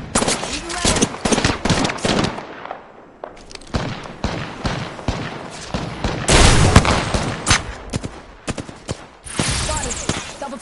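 Gunfire in the video game Apex Legends: dense, loud bursts of rapid shots and scattered single cracks and thuds, mixed with game voices calling out during a firefight.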